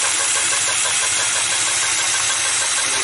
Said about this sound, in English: This engine just as quiet as she can be.